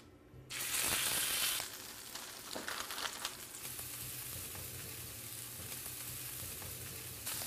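Scallop burgers fry in a couple of teaspoons of grapeseed oil in a pan on the stove, a steady close sizzle that starts with a sharp loud burst as they hit the oil, then settles.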